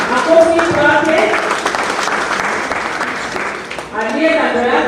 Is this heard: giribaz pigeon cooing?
no